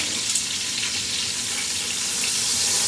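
Chicken thighs frying in a pan after being flipped skin side up, a dense, even hiss of sizzling fat held steady at close range with no pauses.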